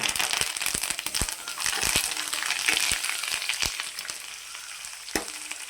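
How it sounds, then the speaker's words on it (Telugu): Curry leaves and chopped green chillies hit hot oil in a tempering for a potato dish, giving a close, crackling sizzle with sharp pops scattered over a soft frying hiss. "ఈ తాలింపు వేగిందండి ఇందులో కరేపాకు వేసుకుందాము"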